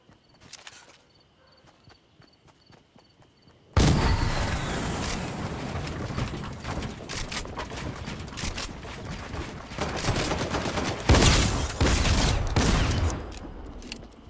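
Gunfire in Fortnite: a quiet opening, then from about four seconds a dense, loud run of shots and action noise that continues to the end, with a sharper burst near eleven seconds.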